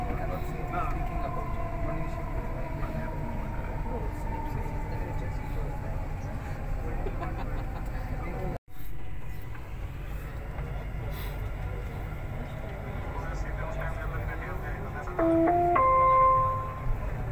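Dubai Metro train ride heard from inside the carriage, a steady low rumble and hum of the moving train with a brief dropout midway and a rising electronic tone near the end, while people talk over it.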